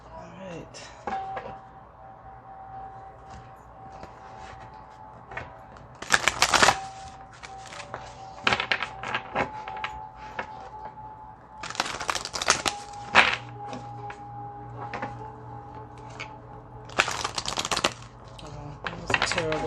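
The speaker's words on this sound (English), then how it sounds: "That was a terrible shuffle." Tarot cards are shuffled by hand in several quick riffling bursts, sharp and close, spaced between stretches of quiet talk with a faint steady hum underneath.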